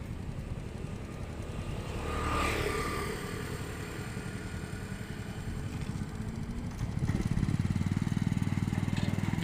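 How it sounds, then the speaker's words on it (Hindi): A motorcycle tows a fully loaded bike trailer, its engine running steadily throughout and growing louder and rougher toward the end as it pulls the load; the sound is continuous and fairly close. "देखो ये लोड भरी हुई ट्रॉली आराम से चलेगी।"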